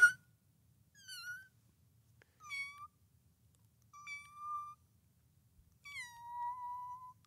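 A person imitating a cat meowing, four separate drawn-out meows spaced a second or so apart, clear and close against near silence, each sliding down in pitch.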